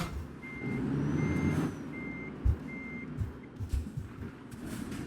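A heavy truck pulls out of a garage in Euro Truck Simulator 2, with a repeating reversing beeper and a low engine rumble, plus a few short thumps near the end.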